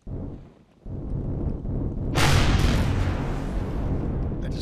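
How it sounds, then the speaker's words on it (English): Weapon fire from the Empyrion Galactic Survival game: a heavy, booming blast erupts midway and rolls into a sustained loud rumble, following a quieter burst at the start. "if it shot at me, I can shoot at it, right?"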